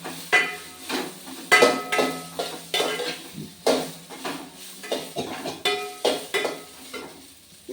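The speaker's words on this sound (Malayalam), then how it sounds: "ഇത് അതിന് ശേഷം നല്ലോണം വഴറ്റുക." Brinjal, onion and green chilli are stirred in a pan as they sauté, with a run of quiet, rhythmic scraping and clinking strokes from a utensil against the metal.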